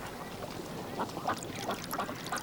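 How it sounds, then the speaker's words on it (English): Ducks quacking on open water between reed beds, a scattered series of soft nasal quacks at moderate distance over a faint outdoor hiss. "The ducks feed in stretches of open water between the reed beds."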